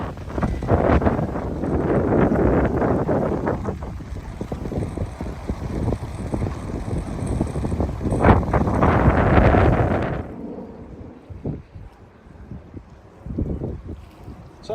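Strong wind buffets the microphone in heavy gusts on a path beside an estuary in Kent, then drops away to quieter rustling and a few faint sounds.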